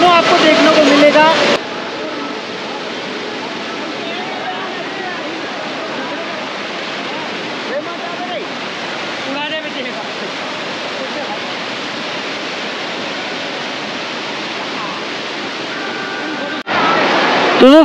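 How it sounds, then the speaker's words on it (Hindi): Water from the Jatmai waterfall near the temple, falling from the hillside, roars as a steady, loud wash of broadband noise, with people talking briefly at the beginning and end. "वहाँ से वो पानी गिरता है, और वो पूरा देखिए बहते हुए ये झरने के एक रूप में जतमई में यहाँ पर"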